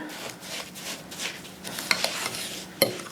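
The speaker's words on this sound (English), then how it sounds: "Give it a few more stirs" A sugar scrub mixture being stirred with a utensil in a bowl, soft repeated gritty scraping strokes up close, with a few light clinks of the spoon against the container.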